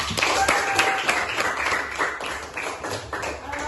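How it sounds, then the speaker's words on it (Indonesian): Classroom applause for a primary-school pupil, a burst of scattered clapping from children that carries steadily across the moment, mixed with lively young voices chattering underneath. "Tepuk tangan untuk Tasya."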